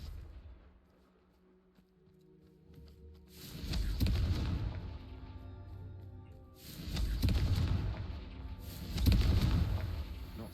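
Fiery Confringo spell blasts in Hogwarts Legacy, three booming explosive bursts with rumbling tails, loud and close, separated by short quieter gaps of game ambience.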